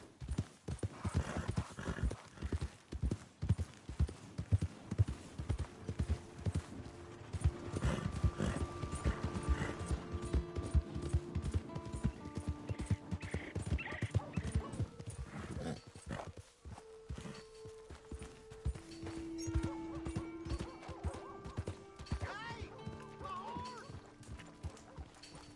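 Horse hooves clip-clop steadily in Red Dead Redemption 2, with a brief whinny partway through, while someone talks over the sound and game music tones hold in the background.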